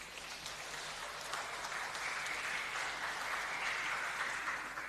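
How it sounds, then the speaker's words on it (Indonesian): Steady applause from a congregation at a memorial prayer service, a dense, even wash of clapping held at moderate level throughout without breaks, fairly distant and diffuse. "Tepuk tangan untuk kemuliaan Tuhan."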